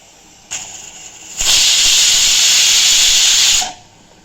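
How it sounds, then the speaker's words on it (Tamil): A pressure cooker lets off a loud, steady jet of steam. A brief hiss comes first, then a sustained close whistle-hiss for about two seconds before it cuts off, with no talk. "இப்போது குக்கர் வந்து சவுண்டு வந்துடுது"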